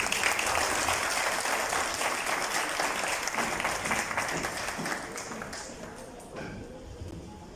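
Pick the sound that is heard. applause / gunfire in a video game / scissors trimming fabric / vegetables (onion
applause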